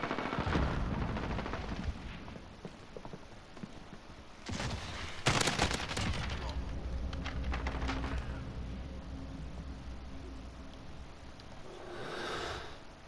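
Gunfire in a Modern Warfare match: a steady ambient game bed broken by a sharp, loud burst of rapid automatic shots near the middle, then quieter trailing shots and rumble.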